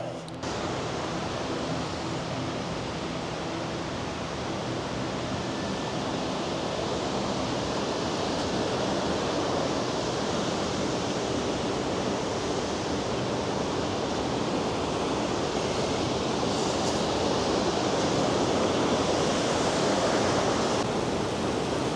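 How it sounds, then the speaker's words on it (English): A river at the top of Burgess Falls rushes past in a heavy flow, a loud, steady, broadband roar of water that holds constant and close for the whole stretch without talk. "There's a river flowing past me here."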